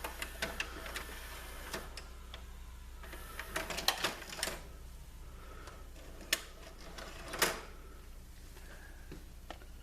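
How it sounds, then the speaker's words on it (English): A VCR ejects a videotape with a few quiet mechanical clicks and whirring clunks, sparse and close in an otherwise hushed room. "We eject the tape."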